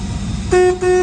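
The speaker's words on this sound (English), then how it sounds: "horn." A car horn sounds two loud, close honks, a longer blast followed by a shorter one after a brief gap, over a low idling engine.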